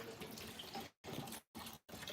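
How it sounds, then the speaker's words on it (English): Water drains from a John Deere lawn tractor radiator into a funnel, a faint close trickling splash broken by three short gaps as the flow stops and restarts. "Got the funnel over here gathering the water."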